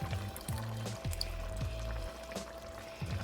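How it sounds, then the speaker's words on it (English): Canned meat sauce pours from a can into a tortellini casserole in a few glugging bursts, close and fairly quiet, with no talking. "Maybe I'll pour half of the other can in."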